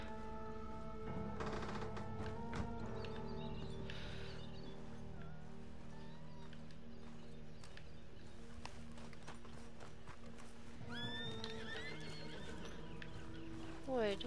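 A horse in the Red Dead Redemption 2 video game neighs and whinnies with clip-clop hooves, layered over steady in-game ambience and faint distant gunfire, while a player talks at points.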